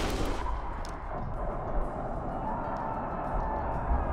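Gunfire booms out in the turn-based game Grimshade, a heavy burst at the start followed by a low rumbling tail with a few faint later thuds.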